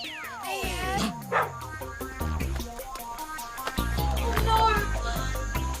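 Dog barks and yips sound out several times amid excited children's voices and a sweeping sound effect, with music running underneath and people talking over it.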